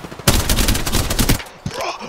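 The Spitfire gun in a video game fires a rapid, dense burst for over a second, then stops, with a brief shot after and voices talking around it.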